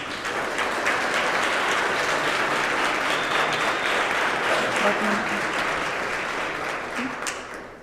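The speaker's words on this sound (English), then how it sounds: "please join me in giving all our finalists one more round of applause" An audience at a Teacher of the Year ceremony gives the finalists a sustained round of applause, a dense, steady wash of many hands clapping at even loudness throughout before easing off slightly at the close.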